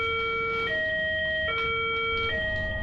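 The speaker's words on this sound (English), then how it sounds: "Out of nowhere, an alarm came on, and the school was placed on lockdown." A school lockdown alarm siren sounds in steady two-tone cycles, alternating pitch about every three-quarters of a second, clear and moderately loud over a low background rumble.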